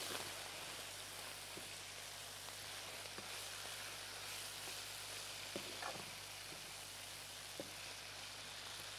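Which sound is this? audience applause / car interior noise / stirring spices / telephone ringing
stirring spices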